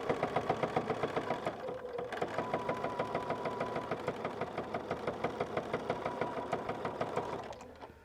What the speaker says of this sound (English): You notice the machine's making a little bit of noise.